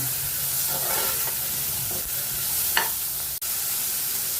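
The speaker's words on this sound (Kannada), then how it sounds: "ಈರುಳ್ಳಿ ಫ್ರೈ ಆಗಲಿ" Onions frying in a pan for a potato, green peas and capsicum dry curry, a loud continuous sizzle with occasional stirring scrapes and one sharp knock near the end, no voices.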